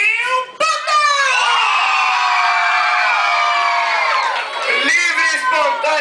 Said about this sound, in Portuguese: Eles gritaram porque eles me amam mesmo.